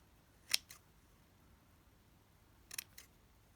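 Scissors snip through scrap fabric, cutting small squares for a textile micro collage: a sharp close snip, a lighter follow-up, then a quick double snip a couple of seconds later in a quiet room.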